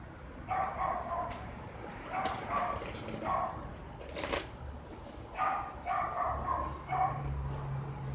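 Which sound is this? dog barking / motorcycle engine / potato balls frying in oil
dog barking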